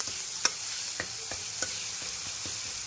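Masala with turmeric and asafoetida sizzling in hot oil, a steady bright hiss broken by soft, regular spoon scrapes and taps as the spices are stirred.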